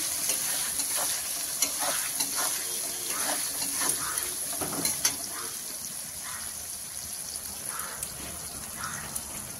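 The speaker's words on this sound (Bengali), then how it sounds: "পেঁয়াজটা ভেজে নিচ্ছি।" Onion fries in oil in a pan for a goat meat curry, a steady soft sizzle broken by repeated spatula scrapes and stirring knocks.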